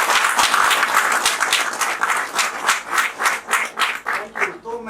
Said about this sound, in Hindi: शर्मा सर के लिए एक जोरदार तालियां बजाइए